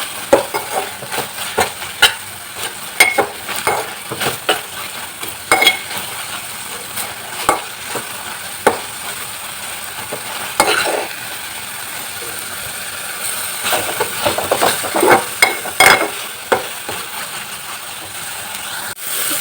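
Spinach (palak) with garlic chili powder fries in a pan while a spoon stirs it, giving a continuous sizzle broken by frequent sharp scraping clacks and bursts of stirring, close and fairly loud.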